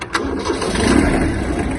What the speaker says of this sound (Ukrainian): трактор заводиться досить добре